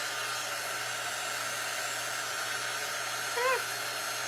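Hair dryer blowing on a rustic craft piece, a steady close airy roar with a constant motor hum that holds unchanged throughout, joined near the end by a brief high-pitched vocal sound.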